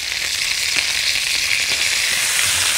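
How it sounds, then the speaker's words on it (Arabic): Onions and garlic fry in a pan on the stove, giving a loud, steady, dense sizzle that carries on without a break from start to finish. "البصل والثوم مع الوقت على النار هيدوبوا"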